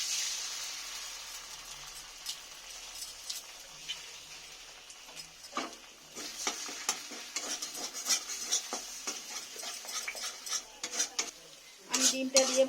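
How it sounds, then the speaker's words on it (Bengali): Egg being stirred with spices in a metal pan while cooking pointal posto, a faint quiet start giving way to scattered spoon scrapes and clinks against the pan, growing louder and busier toward the end. "আমি ডিমটা দিয়ে ভালো করে মশলার সঙ্গে কষে নিয়েছি"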